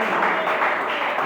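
Church congregation clapping together during an evening worship service, a steady dense wash of applause filling the room without pause.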